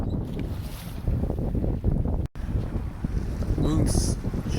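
A sailboat on Lake Erie at night near the islands, heard as steady wind buffeting the microphone over water wash and hull sounds. A voice speaks briefly.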